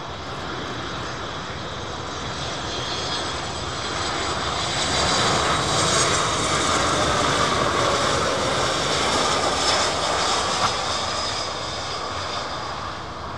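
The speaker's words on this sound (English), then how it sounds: "High-speed approach. Well, not high-speed, but faster approach for the 737." A Boeing 737 jet airliner on approach at Miami airport roars steadily and loudly, a broad engine rumble that swells slightly in the middle of the pass and continues with no voices over it.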